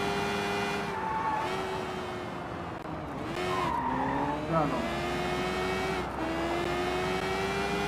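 A motorbike ridden through the streets in the Sleeping Dogs video game, its steady engine drone wavering as it shifts pitch, with bursts of tire screech and traffic noise, while someone talks briefly over it.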